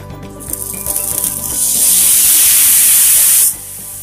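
Oil hits a hot tawa for rava dosa, building from light crackles into a loud, bright, steady sizzle that cuts off abruptly after a couple of seconds.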